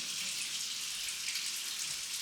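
Tap water runs steadily in a farmhouse kitchen, a continuous, fairly loud hiss and splash with no break and no voices.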